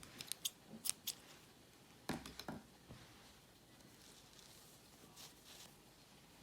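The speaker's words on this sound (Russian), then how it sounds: "Обрезаю ниточку." Scissors snip crochet yarn while finishing a crocheted earflap hat, giving a few sharp close clicks in a quiet room, with faint handling rustle between them.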